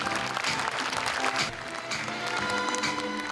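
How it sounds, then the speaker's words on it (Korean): Audience applauding at the Jeon Jun-hwan Social Economy Award ceremony in Gyeongsangbuk-do, a dense, steady wash of clapping from a large crowd that stays loud for the whole stretch, with faint music-like tones beneath. "큰 박수로 맞이해 주십시오."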